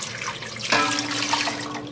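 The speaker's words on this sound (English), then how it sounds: "We add 3 quarts of water." Water pours into a Presto pressure canner holding a rack, a sudden rushing splash that settles into a steady filling gurgle with a rising tone, close and fairly loud.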